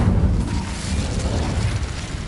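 The Incendio fire spell from Hogwarts Legacy bursts out as a loud, dense whooshing roar of flame that sustains evenly for a couple of seconds.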